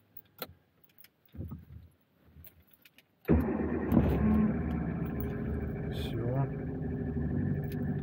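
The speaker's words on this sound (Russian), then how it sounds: "тачку запустили. Сейчас прогреем" A car engine cranks and catches after a few quiet clicks and rattles, then settles into a steady, loud idle as it warms up, holding close and continuous to the end.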